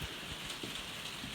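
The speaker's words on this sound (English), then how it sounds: "so much rain that our draining system can't handle it" Heavy rain pours down during the 2023 floods in Slovenia, a dense, steady hiss of water hitting surfaces with scattered heavier drops, continuous and fairly close.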